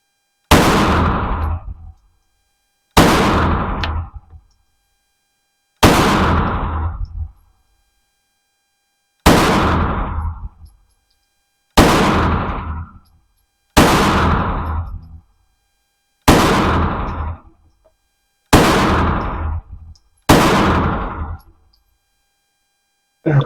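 A suppressed VZ61 Scorpion submachine gun fires ten single rounds from a 10-round magazine, each a loud, sharp report with a quick decay, spaced about two to three seconds apart.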